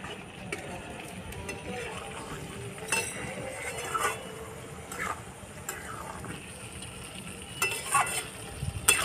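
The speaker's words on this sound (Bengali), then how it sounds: "এটা ভালো করে কষিয়ে নিয়ে ভাজা ভাজা হয়ে গেছে, তেল ছেড়ে দিয়েছে। এবার ভেজে রাখা ডিমটা দিয়ে দেবো।" Fried eggs go into a sizzling, well-cooked onion masala for egg do pyaza. Steady frying crackle runs throughout, broken by repeated clinks and scrapes of a utensil against the pan, with occasional faint voices.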